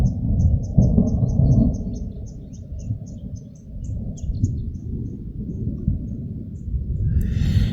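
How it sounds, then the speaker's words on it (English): Thunder from cloud-to-cloud lightning rolls as a continuous deep rumble over a mountain place during a storm, while small birds chirp steadily and faintly above it. "but so is the thunder"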